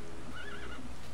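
Horse neighing in the Minecraft video game, a short whinny heard clearly over steady background noise.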